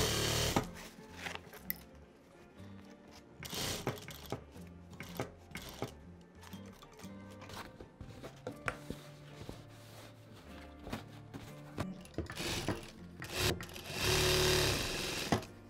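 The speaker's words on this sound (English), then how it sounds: "Then lift the presser foot and turn, and turn this fabric." A sewing machine runs in bursts of rapid stitching through denim fabric for a handbag, with short pauses between runs, close up and fairly loud.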